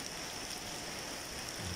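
Rain falling steadily in front of a house, a dense and even hiss of drops close by that goes on without pause for the whole short stretch.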